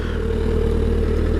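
A steady, deep stock exhaust rumble from a 2014 Suzuki Hayabusa GSX1300R motorcycle idling close by, even and throaty with no talking.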